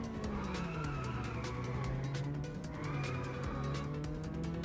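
Car tires squeal and skid in long wavering sweeps while a car drifts through sharp turns in Inertial Drift, with a steady engine drone underneath.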